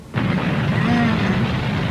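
A man vocally imitates a firecracker bursting in the middle of a market, making one loud, sustained, rough explosive blast of almost two seconds.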